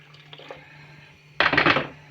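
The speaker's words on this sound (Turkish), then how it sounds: "Suyumuzu da ilave edelim kettle'dan." Hot water from a kettle is poured into cake batter in a home kitchen. After faint background sounds, a loud, splashing gush starts suddenly and carries on to the end, close and unaccompanied by speech.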